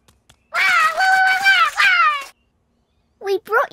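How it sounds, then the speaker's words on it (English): A cartoon rubber duck toy gives one long, wavering, high-pitched squeak, loud and close, followed after a short pause by a brief voice. "Here we are, one squeaky ducky"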